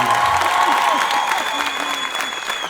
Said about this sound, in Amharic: እስኪ አጨብጭቡ ሁላችሁ